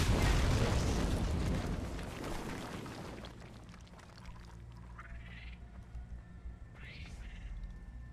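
A loud explosion booms in Far Cry 3 and rumbles for about three seconds before fading into quieter game ambience, with brief rising chirps and some low talk underneath.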